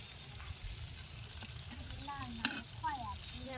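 Tilapia fish sizzles steadily in oil in a frying pan, with a couple of sharp clinks of a utensil and faint voices murmuring in the background.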